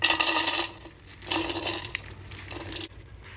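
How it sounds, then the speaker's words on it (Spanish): Soaked beans being drained, with bursts of splashing water and rattling beans in two main pours separated by quieter gaps, close and fairly loud. "Vamos a escurrirlos y los vamos a poner en una olla amplia"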